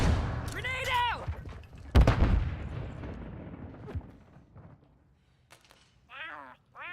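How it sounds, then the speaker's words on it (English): A grenade going off in a Call of Duty video game, a loud booming burst about two seconds in that rumbles and fades, set amid other game effects and whooshing sounds. "Grenade out!"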